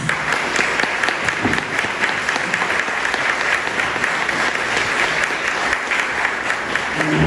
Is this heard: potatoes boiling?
no